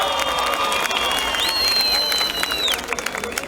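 A stadium crowd at a Zeybek folk dance show applauds and cheers, a dense wash of clapping with whistles rising over it and someone talking through a public address system.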